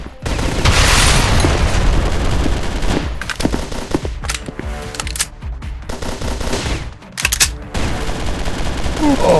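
Rapid automatic gunfire from a shooting video game fills the scene, dense bursts of close, loud shots with booming impacts and brief pauses, while voices shout callouts over the action.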